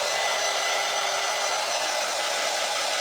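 A hair dryer blows hot air over dark walnut wood stain and paint on a wooden craft piece, a loud, steady whooshing hiss held without break and close up.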